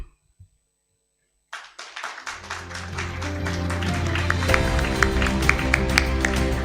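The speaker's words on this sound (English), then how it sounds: "I need to hear the applause loud and clear" Audience applause at a press conference at the Hotel Shangri-La in Bengaluru, starting abruptly after a brief quiet and swelling into sustained, loud clapping from a large crowd.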